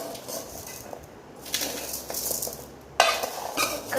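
Spoon scraping and clinking against a pot or bowl while mustard and chili powder are stirred into traditional raw mango pickle, with intermittent clatters and scrapes at close range, no talking.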